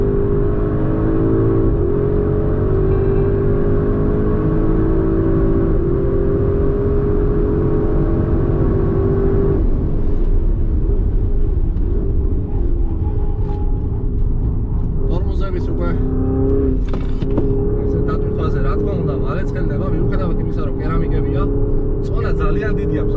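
A Porsche Cayenne Turbo GT SUV drives on a race track, its engine holding a loud, continuous drone that shifts in pitch as it accelerates, with some higher mechanical whine toward the end.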